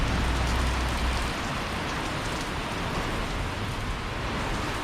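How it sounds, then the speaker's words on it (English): A steady rain shower falls outdoors near a boat storage area, a dense, even hiss that continues unbroken with a faint low hum underneath at first. "Coming a nice little shower."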